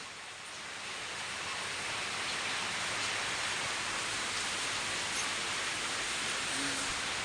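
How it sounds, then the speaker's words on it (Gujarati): Heavy outdoor rain swells slightly at first, then settles into a steady, thick hiss of drops pattering on surfaces, continuous and without talk. "વરસાદ બરોબરનો ચાલુ છે"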